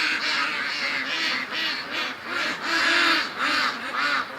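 A mixed flock of ducks and newly landed Canada geese at a pen, calling in a steady stream of quacks and honks at moderate distance, overlapping and rising and falling without pause.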